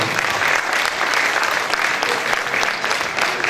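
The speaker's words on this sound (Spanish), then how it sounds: "así que aplauso é de vos tamén" A lively audience at a Galician singing festival, Cantateo, gives sustained, even applause. The clapping is bright and continuous throughout, with no voices over it.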